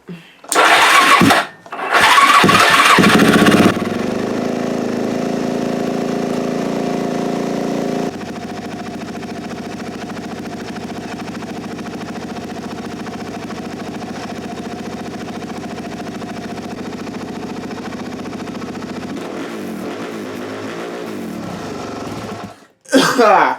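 A Suzuki DRZ400SM motorcycle engine on choke stutters through a few short cranking bursts, then catches into a steady, loud idle that holds before cutting out near the end.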